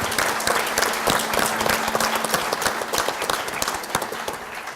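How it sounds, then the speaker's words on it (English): A round of applause from an audience for panel participants at an on-site power industry remote monitoring panel, lively scattered clapping that stays steady for several seconds and gradually thins out. "Let's all give these guys a big round of applause for their assistance."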